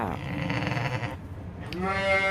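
Sheep bleat in close succession on a farm, a wavering, nasal cry followed after a brief gap by a louder, sustained second bleat.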